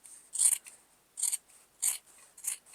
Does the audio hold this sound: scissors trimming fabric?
yes